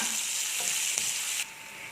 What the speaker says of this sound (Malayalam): ഒരു മീഡിയം സവാളയാണ് ഞാൻ എടുത്തത്, അതുകൂടി ഇതിലോട്ട് ഇട്ട് കൊടുക്കാം.